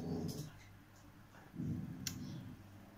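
A dog at home gives a few low growls and soft whimpering sounds in two short bursts, close by and fairly quiet, with light clicks between them.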